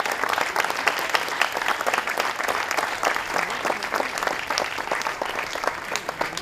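A theatre audience at Bhartendu Natya Academy applauds a staging of Nagamandal with sustained, close, crisp clapping that stays even and dense throughout.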